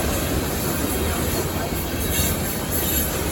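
A loaded UP/KCS coal train rolls past near Horatio, Arkansas, a loud, close, continuous rumble and roar of rail cars with a faint high wheel squeal.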